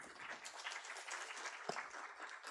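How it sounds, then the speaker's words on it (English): Audience applause for invited guests at a Women's Day event, soft steady clapping from a group heard at a distance and fairly faint throughout. "Please join us in a round of applause for our esteemed guests."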